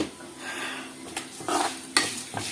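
A handful of black peppercorns dry-roasting in a pan over a low flame, with a soft background hiss, a few sharp scrapes and rattles as a spoon stirs them, and brief clinks against the metal.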